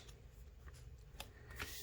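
Double-sided tape backing being peeled off a papercraft gift card holder, heard as a few soft, close crinkling rips over a faint background hum.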